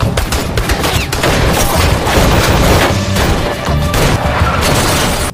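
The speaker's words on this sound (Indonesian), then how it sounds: "Sampai James menembak pembeli itu dan mengundang kedatangan polisi." A gunshot in a gangster film scene, heard within a loud, dense burst of gunfire and crashing noise that runs continuously throughout.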